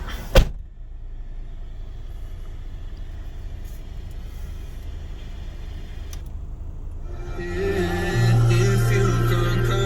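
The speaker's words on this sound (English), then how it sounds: "Close the door." Door of a 1994 Honda Civic EX VTEC coupe shuts with a single sharp, close thump near the start, followed by a quiet interior hum and then a steadier tonal drone rising near the end.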